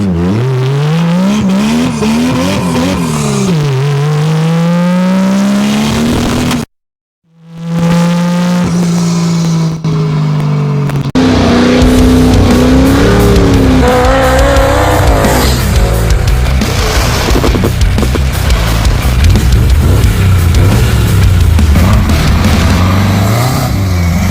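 A 1987 Toyota Supra with a swapped, turbocharged 2JZ-GE engine drives, its engine note climbing and falling through gears. The sound is loud and close, drops out briefly, then returns stronger and busier with possible tire noise.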